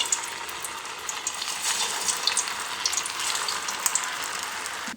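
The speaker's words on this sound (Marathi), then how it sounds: "इकडे आपलं तेल तापलेलं आहे. आता आपण एक एक वडी करता सगळ्यात वड्या तळून घेऊत." Coriander vadi pieces frying in hot oil, a steady, close, bright sizzle with crackling bubbles that runs alone throughout without any pause.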